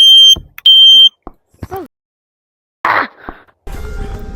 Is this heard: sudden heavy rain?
no